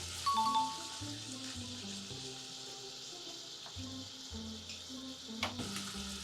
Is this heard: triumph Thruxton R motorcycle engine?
no